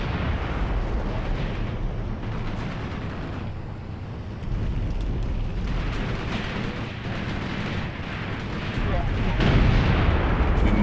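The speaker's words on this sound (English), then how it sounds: "the enemy Air Force still bombarding the absolute hell out of us" Enemy air force bombing in Graviteam Tactics, a war game set in Africa in 1979: continuous heavy explosions and booming rumble roll on for several seconds, with scattered sharp cracks and a louder burst near the end.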